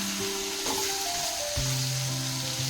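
Marinated paneer shallow frying in refined oil in a pan, a steady close sizzle running throughout with soft tonal hums on top.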